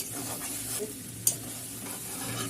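Bathua greens and potatoes sizzle in a wok while a spoon stirs them, soft scraping strokes over a steady frying hiss, with one sharp clink partway through.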